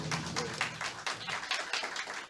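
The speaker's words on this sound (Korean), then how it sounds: "큰 박수로 환영해 주시기 바랍니다." Audience at a public-servants' union officer election debate clapping to welcome candidates, a moderate burst of scattered hand claps from a crowd, fairly distant and uneven, fading slightly toward the end.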